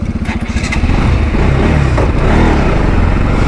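Several motorcycles, including an R15, an RS and an NS 200, rev up loudly and pull away together, a close, throaty engine roar that builds and holds throughout.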